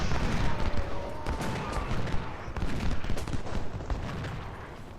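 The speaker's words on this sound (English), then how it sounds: "See, we are already shooting." Massed musket volleys from Civil War troops in battle at Shiloh, a dense, continuous crackle of rifle fire rolling on throughout, with no voices over it.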